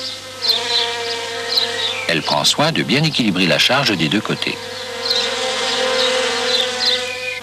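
A honeybee in flight near flowers, a steady insect drone running throughout under a French narration voice, with a stretch of louder busy sound in the middle.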